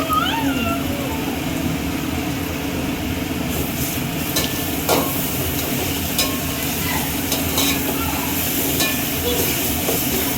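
Ginger garlic paste frying in a hot pan while being stirred, a steady broad sizzle with scraping strokes of a spoon running throughout at close range, with faint background voices.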